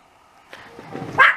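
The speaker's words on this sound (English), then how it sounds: "Hush, dog, dog." A dog gives one short bark near the end, close and fairly loud, after a brief rustle in a quiet indoor room.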